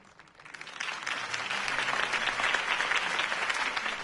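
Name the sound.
crowd applause after campaign speech in Batman Telltale video game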